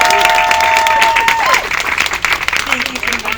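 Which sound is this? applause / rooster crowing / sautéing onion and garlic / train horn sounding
applause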